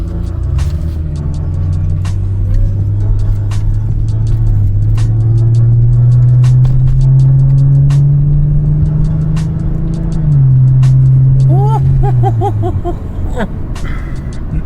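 A 2006 Lexus GS300 accelerating from inside the cabin, its engine drone rising steadily in pitch over several seconds before easing off, with road rumble underneath and a few brief clicks and beeps.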